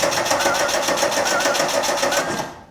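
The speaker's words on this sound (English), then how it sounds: "I'm really glad I bought a new battery because it's cranking fine" A car engine with a new battery cranks without catching, giving a fast, even, whirring churn that runs close and steady before cutting off.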